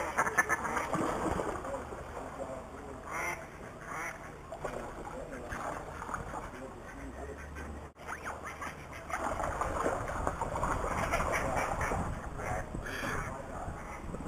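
Ducks quacking and squabbling at a lake, with bursts of harsh calls rising and falling near the microphone while people talk over them.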